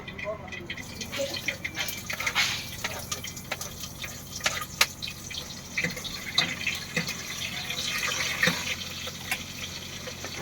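Mustard seeds and chillies fry in hot oil with dense, irregular crackling and popping that runs steadily, close by, while a voice talks over it.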